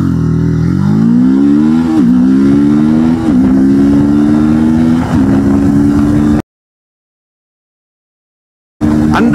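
A 300cc naked sports motorcycle accelerating from 0 to 100, engine note climbing in pitch through several gear shifts with brief dips, loud and close, then cutting out before resuming.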